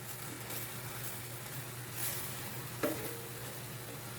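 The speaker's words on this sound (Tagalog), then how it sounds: "haluin na natin at ihahalo ko na yung iba pang ingredients" Bean sprouts being stirred with other ingredients in a hot pan, sautéed with kangkong, giving a steady soft sizzle with light scraping and one brief clink of utensil near the end.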